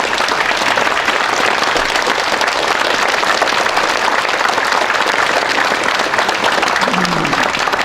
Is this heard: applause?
yes